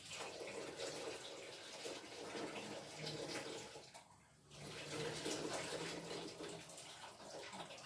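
Water from a pot of boiled potatoes pours steadily into a sink as they are drained, a broad continuous splashing rush with a brief dip midway before resuming.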